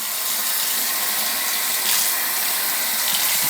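Tap water running into a sink during handwashing with foaming antibacterial soap, a steady close hiss of flowing water with no break.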